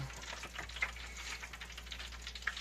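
Famous bowl bites deep frying in a fryer, a close, steady crackling sizzle of oil with small pops and bubbling throughout over a low constant hum.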